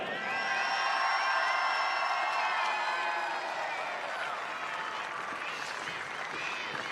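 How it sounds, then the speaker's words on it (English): A stadium crowd claps steadily with a few whoops, cheering the Kate Sheppard Cup 2022 winners Auckland United after a New Zealand women's football final, the applause continuous and moderately distant throughout. "another round of applause for your New Zealand Football Foundation Kate Sheppard Cup 2022 winners, Auckland United"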